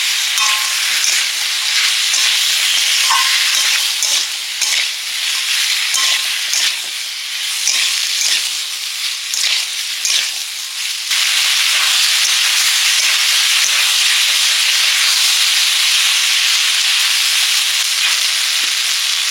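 Potatoes and taro sizzle and fry with spices in a pan, a loud steady hiss with occasional stirring scrapes running throughout, no talk over it.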